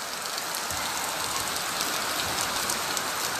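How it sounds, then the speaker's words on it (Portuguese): Heavy rain pours steadily in Paramirim, a dense, even hiss of drops on surfaces that fills the whole stretch without a break, with no voices over it. "Paramirim recebe aí uma grande quantidade de chuvas e muita água"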